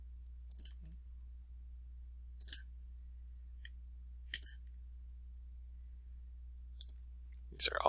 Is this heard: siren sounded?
no